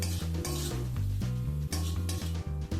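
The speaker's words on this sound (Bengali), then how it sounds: "সব কিছু একবার সুন্দরভাবে মিশিয়ে নিয়ে মশলাটাকে খানিকক্ষণ সময় নিয়ে একটু কষিয়ে নেব।" Spice paste with salt stirred and fried in a pan for chicken bhuna khichuri, with a soft sizzle under repeated scraping strokes of a utensil against the pan, steady and close, while strong tonal music plays throughout.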